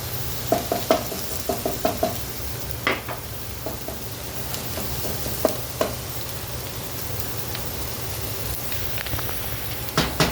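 Fresh garlic sizzles in hot oil for fajitas, with a steady, low crackle under scattered clicks of a utensil stirring the pan.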